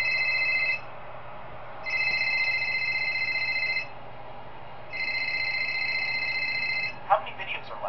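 A phone rings in the horror video game Five Nights with Bud, three long electronic ringing bursts separated by pauses, fairly clear over a low background hum, with a faint clatter at the end.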